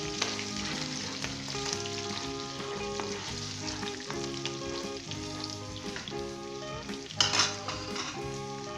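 Cumin seeds and red chillies sizzle in hot oil for a tadka for Rawalpindi-style pindi chole, a steady close crackle under background music, with a brief clink of a utensil near the end.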